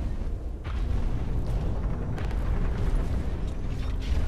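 Rocket fire and explosions in the mech combat game Hawken form a continuous dense rumble of booms and blasts with heavy low-end thumps, loud and layered throughout.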